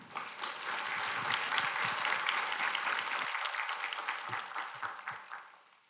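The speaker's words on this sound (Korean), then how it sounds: "따뜻한 박수로 목사님 모시도록" Warm applause from a church congregation welcoming a pastor to the pulpit for a sermon, steady dense clapping that holds for several seconds and then gradually thins out toward the end, with no talk over it.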